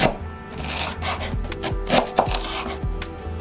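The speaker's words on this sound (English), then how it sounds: "Then I'm gonna cut some ginger, like 4 thick slices here." A knife chops through fresh ginger on a cutting board, cutting four thick slices for a vegan sukiyaki: a series of close, crisp thuds and woody knocks in uneven rhythm, with no talking.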